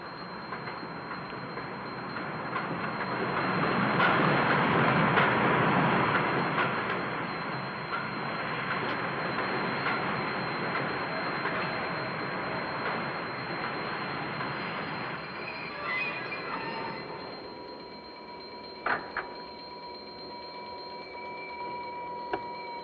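A train rumbles in on the rails, swelling loud then easing as it slows, with a faint wheel squeal and clicks near the end.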